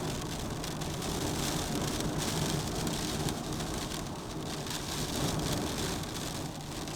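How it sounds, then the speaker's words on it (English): Steady rain pouring down, a constant dense hiss of drops on surfaces, unbroken and fairly loud throughout. "And hear that rain."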